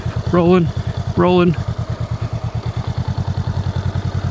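A motorcycle ridden by a new rider pulls away slowly in first gear, its engine chugging in a steady, close pulse with two short voiced sounds early on.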